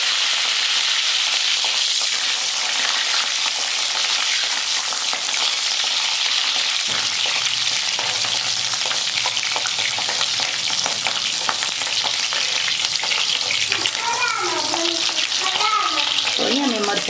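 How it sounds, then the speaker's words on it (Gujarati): Chillies frying in hot oil in a home kitchen, a steady loud sizzle throughout with stirring noises, and brief clinks near the end. "તો પહેલાં તો હું તેલના મરચાંને તળી લઈશ."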